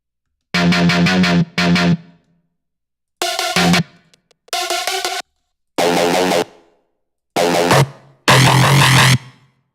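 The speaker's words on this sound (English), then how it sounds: "There's a delay, but it's not a reverb." Loud drum and bass synth stabs with a delay effect play as six short, distorted bursts separated by gaps, some trailing off in brief echoing tails, with no talking.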